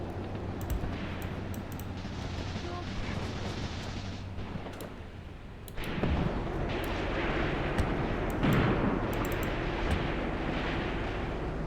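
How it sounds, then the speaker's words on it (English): Tank and infantry fire at a windmill in Graviteam Tactics: Mius Front, a steady rumbling barrage of booms and crackling shots that swells louder midway and stays dense, no voices. "We're even firing at the windmill."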